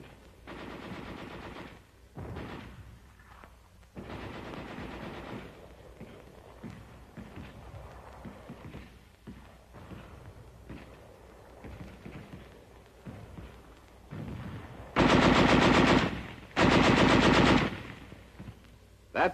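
Heavy machine guns fire in long, loud bursts on a 1944 military training film soundtrack, with two especially intense sustained volleys near the end following quieter intermittent firing.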